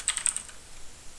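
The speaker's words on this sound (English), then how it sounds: "So I can type a message here," Quick, light keystrokes on a computer keyboard, a short burst of about five clicks followed by a single faint tap, close and quiet.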